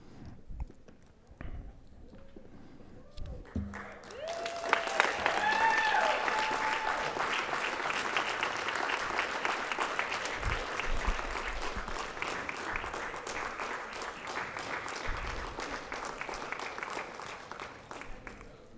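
Applause at a school board of trustees meeting for a state-championship track and field team, a sustained wash of many hands clapping from a crowd in a hall, steady and fairly loud with scattered voices.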